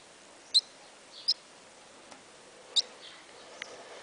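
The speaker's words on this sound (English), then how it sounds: "We can hear it tweeting." Baby bird tweeting in a quiet room: four or five short, high, thin chirps spaced irregularly over a few seconds, faint and close.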